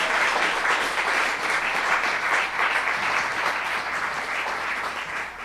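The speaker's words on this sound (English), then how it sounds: "Round of applause." Audience applause from a crowd at a dance and emerging technologies artist talk, steady and dense clapping that stays loud throughout and eases off slightly toward the end.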